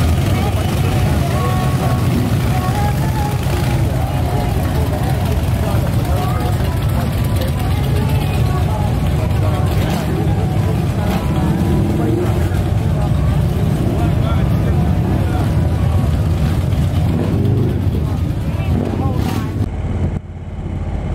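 Motorcycles at the Thunder on the Strip bike rally, a dense, continuous rumble of engines close by with revving swells, and voices talking through the crowd noise.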